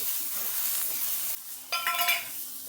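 Chopped tomatoes sizzle in a pan over onions, a steady hiss followed by scraping and clinking as a ladle stirs them, with no talking.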